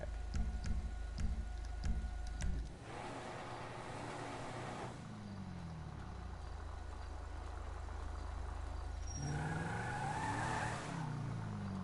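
A car with weight added at the rear spins its wheels, a steady engine drone with a long smeared tire roar building in the middle, and a shift in pitch near the end.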